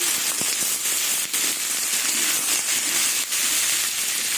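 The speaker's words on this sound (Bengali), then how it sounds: "এবার আলু দিয়ে পেঁয়াজ দিয়ে সব ভাজা ভাজা করবো" Potatoes and onions frying in a pan for aloo posto give a loud, steady hiss with scattered crackles and a few pops, close up and uninterrupted by speech.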